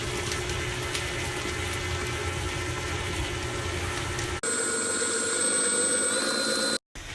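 A stand mixer whirs steadily while Earl Grey-infused milk is poured into the bowl of coffee cake batter, a loud continuous mechanical drone that shifts in tone partway through, then cuts out briefly near the end.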